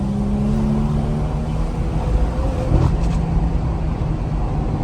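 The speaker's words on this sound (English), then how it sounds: "you can hear the incredible air intake sounds, and then also the exhaust at the same time" BMW M240i engine under acceleration, its intake roar and exhaust note blending in a steady, loud drone that swells slightly midway with no talking.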